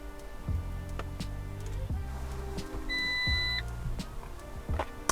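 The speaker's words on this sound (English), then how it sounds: "A little beep there." A short electronic beep sounds from an Abarth 500 as a tune with pops-and-bangs settings is uploaded over CAN, a steady two-tone tone lasting under a second over low background hum.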